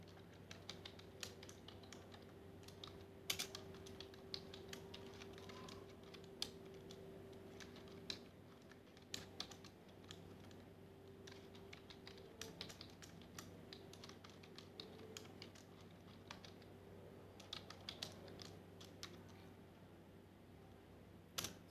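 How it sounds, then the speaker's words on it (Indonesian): Computer keyboard typing, close and faint, a quick irregular run of key clicks with a few sharper taps, entering a command in MATLAB. "Maka kita bisa mengetikkan perintah"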